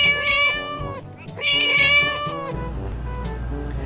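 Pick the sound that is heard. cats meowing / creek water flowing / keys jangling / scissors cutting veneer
cats meowing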